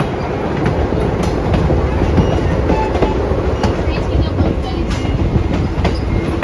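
An excursion train pulled by Nickel Plate Road 358 runs on the Autumn Limited at moderate throttle. From on board, a loud, continuous rumble of rolling wheels carries faint rhythmic clicking over rail joints.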